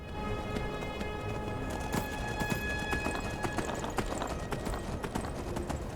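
A horse galloping in Skyrim, with rapid rhythmic hoofbeats close by that run continuously over a low background.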